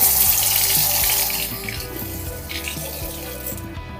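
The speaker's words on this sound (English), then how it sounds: "rinse them off." Running tap water splashes over Rit-dyed parts of a CJRB Resource knife being rinsed in a sink, a steady close gush that eases slightly after the first second and continues alone.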